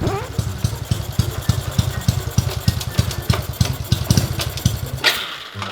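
Motorcycle fitted with a racing camshaft, its exhaust loud and close with a lumpy, uneven idle of sharp repeated pulses, revving briefly near the end.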